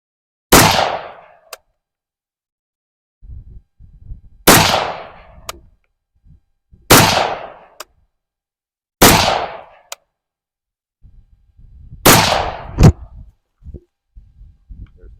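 Five loud, sharp rifle shots from a Steyr AUG A3 M1 at an outdoor range, spaced a few seconds apart, each ringing out briefly with faint handling noises between them.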